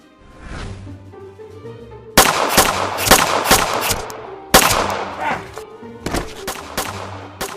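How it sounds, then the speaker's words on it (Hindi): Gunfire sound effects in a Hindi animated story: loud, rapid bursts of shots fire in quick clusters, pause briefly, then erupt again over a low background. "आरव और उसके आदमी आलिया पे फायरिंग शुरू कर देते हैं।"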